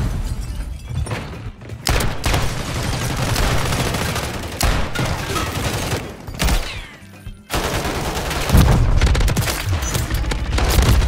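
A goofy grenade in a video game is thrown and bursts among heavy, continuous gunfire and booms, with loud thuds and brief gaps through the barrage.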